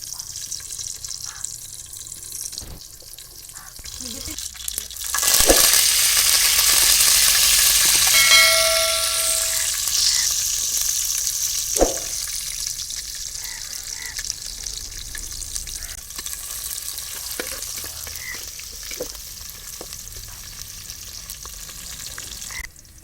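Fenugreek, coriander and cumin seeds sizzle and crackle as they fry in a pan for fish curry, a broadband hiss that swells loudly at about five seconds and then settles into a steady fry with faint stirring scrapes.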